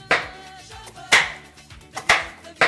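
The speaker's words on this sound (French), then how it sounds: "Maintenant, je vais la couper en petits bouts." A knife chops something into small pieces for a winter salad, giving four sharp, close thuds against a board at an uneven pace, with faint quiet gaps between them.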